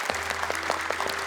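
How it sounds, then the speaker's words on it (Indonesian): A studio audience at a televised children's Quran memorization competition claps for the contestants' parents, a dense burst of applause with clearly spaced, rhythmic claps over a steady low hum. "Buat tepuk tangan untuk para orang tua juga"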